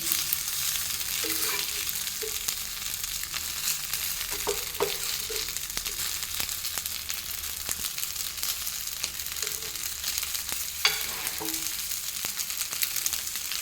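Slices of pathrode, colocasia leaf rolls, fry on an iron griddle with a continuous soft sizzle and occasional faint clicks of handling, steady throughout and without talk.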